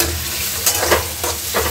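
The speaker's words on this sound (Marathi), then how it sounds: "थोडंसं ब्राऊन होस्तवर कांद्याला भाजून घेऊ आपण" Onion browning in a pan for a village-style brinjal bharit, with a steady sizzle and a few louder stirring scrapes spaced across the short stretch, fairly close and with no talk.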